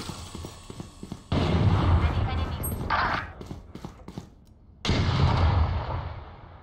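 A bomb-buddy robot explodes in a video game as two loud, heavy blasts with long rumbling tails, the first lasting several seconds before a short gap and a second full-bodied boom.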